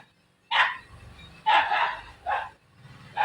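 A pet dog barks at another dog passing on the road, three or four sharp, close, loud barks spaced about a second apart, with no voices.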